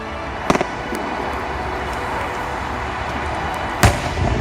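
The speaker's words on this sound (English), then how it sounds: "There's so many fireworks." Scattered firework bangs over a steady outdoor rumble, with a small cluster early on and a sharp loud burst near the end, spaced far apart.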